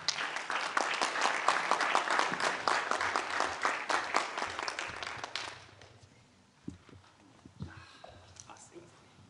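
A lecture audience applauds the speaker, a dense, loud wash of clapping for about five seconds that then fades out, leaving sparse scattered claps and light room noise.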